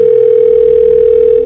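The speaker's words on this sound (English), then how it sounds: "Can we get Mario on the phone, please?" A steady, loud telephone dial tone hums alone and unbroken as a call is placed on a phone, fading slightly at the very end.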